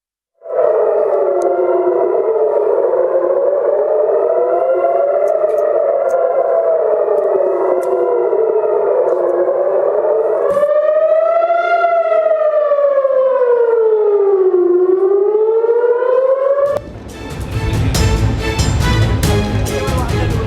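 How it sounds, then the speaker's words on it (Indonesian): A loud civil defense siren wails steadily over Israel at night during an Iranian missile attack, its tone rising and falling in long sweeps, before giving way to a burst of noisy rumble. "Sirine pertahanan bergema di langit malam Israel."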